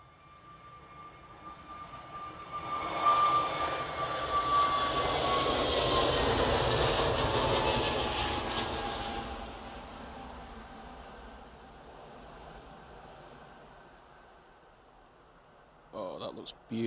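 British Airways airliner jet engines at Manchester Airport, a loud roar swelling as the aircraft passes, peaking midway and then fading into the distance, with a brief clatter near the end.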